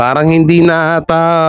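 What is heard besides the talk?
No everyday noises stand out.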